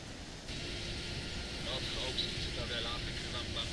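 Fighter jets flying in the video game Tom Clancy's H.A.W.X, a steady broad engine roar filling the clip, with brief faint voice-like radio chatter partway through.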